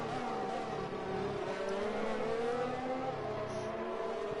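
A McLaren Formula 1 car racing on track, its high-pitched engine whine rising and falling through gear changes, steady and fairly close, with a second engine tone layered beneath.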